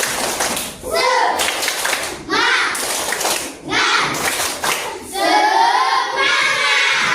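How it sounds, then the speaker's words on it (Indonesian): Children in an Indonesian classroom perform the tepuk semangat spirit clap, several bursts of rhythmic group clapping separated by short pauses, alternating with chanting young voices. "Tepuk semangat."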